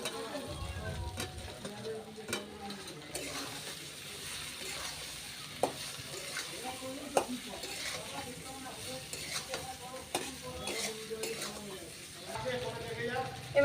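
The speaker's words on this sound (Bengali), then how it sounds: "এবার দিয়ে দিচ্ছি আমি ভেজে রাখা আলু, আলুর সাথে ওই মশলাগুলো একটু কষিয়ে নেব" Fried potatoes tossed and sautéed with spice paste in hot oil for a vegetarian soybean dhoka curry, with steady sizzling and repeated spoon scrapes and stirs, a voice faintly talking underneath.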